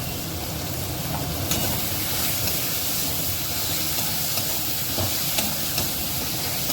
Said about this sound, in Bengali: মশলাটা কষি নেবো ভালো করে। একটু লঙ্কা গুঁড়ো দেবো।